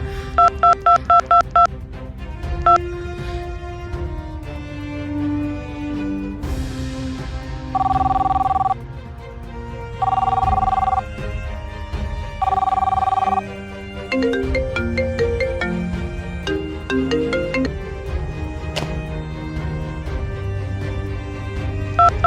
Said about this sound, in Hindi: क्यों फोन कर रही है यार?